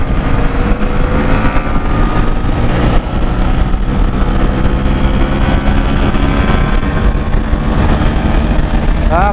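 A Vespa scooter runs hard at speed on a hilly alternative road, its engine droning steadily with wind rush and the hum of other motorbikes close around it, alone with no talk.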